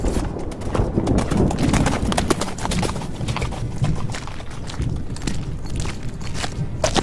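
A horse's hooves clip-clop in a steady walking rhythm, close and distinct, with a faint neigh-like sound mixed in.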